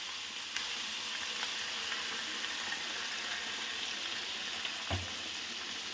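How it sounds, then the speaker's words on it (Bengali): Ground spice paste for soybean and potato korma hits hot oil in a pan, raising a steady, close sizzle and fry hiss that runs unbroken, with a brief clatter near the end as it is stirred. "এবার বেটে রাখা মশলাটা আমি এর মধ্যে ঢেলে দেব।"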